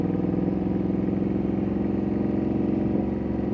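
Ducati Panigale V2 S motorcycle ridden on a road, its engine droning steadily and close throughout with a mid-pitched rumble and no speech over it.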